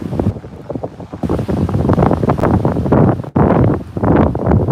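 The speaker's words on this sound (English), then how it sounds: "when you hear the waves, it just melts all your worries away" Ocean waves breaking on a beach at a Bali resort, a loud rolling surf with repeated swells, heavy wind buffeting the microphone, and no talk.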